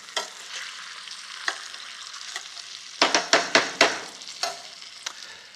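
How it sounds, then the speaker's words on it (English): Potatoes fry in a pan, still pale and turning translucent, under a continuous close sizzle while a spatula stirs them, giving a run of sharp scraping strokes that cluster in quick succession midway. "give the potatoes a quick stir while they're busy cooking"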